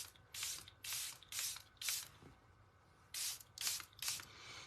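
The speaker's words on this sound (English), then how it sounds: "This is the Charlotte Tilbury setting spray" A Charlotte Tilbury setting spray gives a quick series of about seven sharp, hissing bursts, close and clear, in two clusters with a short pause between.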